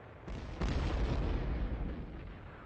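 A World War I artillery bombardment at the Battle of the Somme rolls out as deep, rumbling blasts that swell into a sustained roar and then fade slightly, with no talking.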